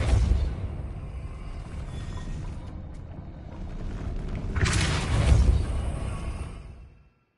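Depulso spell cast in Hogwarts Legacy, heard as a dense magical blast that starts with a heavy boom, eases into a rumbling wash and swells into a bright burst before cutting out.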